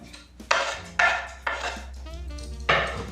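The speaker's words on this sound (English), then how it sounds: "I just use my tablespoon and sort of mix that paste" A tablespoon scrapes and clinks in a bowl, mixing and mashing garlic into an olive oil and smoky maple marinade paste for vegan tofu, giving five or six short bursts of close scraping with brief pauses between strokes.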